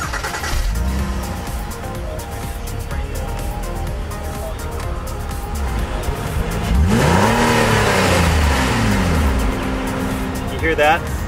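A 2013 Acura RDX small SUV with a 3.5-liter V6 producing 273 horsepower idles with a steady hum, then revs loudly in several rising and falling sweeps partway through, heard close.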